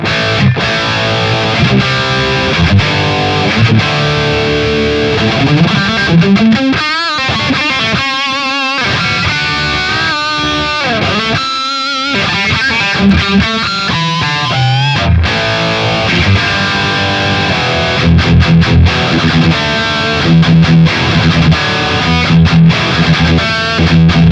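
Loud, continuous distorted electric guitar through an amp simulator, with thick saturated chords and some sustained bending notes, played steadily throughout.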